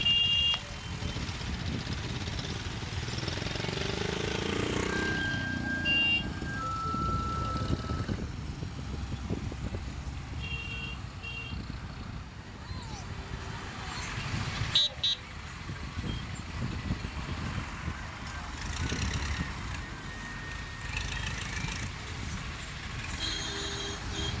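Tempos, trucks and water tankers rumble past behind a palkhi procession on a road, a continuous wash of engine and tyre noise with occasional distant horn toots, moderately loud and steady throughout.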